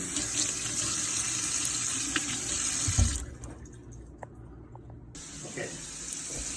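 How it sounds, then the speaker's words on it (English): Vegetables are rinsed under a running kitchen sink tap, giving a steady hiss of water that cuts out briefly midway, leaving a few small clunks before the flow resumes. "all the seeds go right down the drain and you can quickly rinse off the vegetables"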